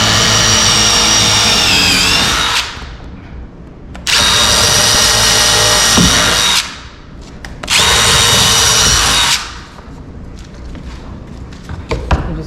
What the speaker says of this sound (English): So now that I got my jig set up, I'm just using an 1/8 inch bit to pilot